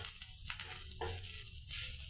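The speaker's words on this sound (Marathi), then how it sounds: "यामध्ये आपण 2 चमचे खोबऱ्याचा कीस टाकून परतून घेऊया" Grated coconut roasting in a pan while being stirred constantly, a steady soft sizzle and dry rustle with a few brief scraping strokes over about two seconds.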